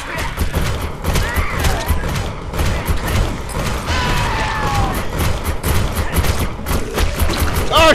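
Turret guns in the shooter game Defiance fire in rapid, dense bursts, with thuds and booms layered over continuous gunfire. Occasional shouted voices come through the barrage.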